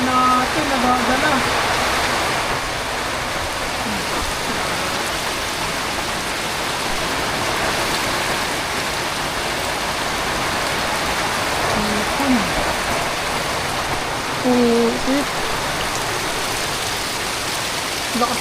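Heavy rain pours down with a steady, dense hiss alongside rushing runoff water, loud and continuous throughout, while people talk intermittently underneath.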